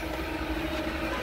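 A refrigeration compressor with leaking suction valves runs steadily in a reach-in unit, a continuous dense mechanical drone with a low rumble and no breaks across the short stretch.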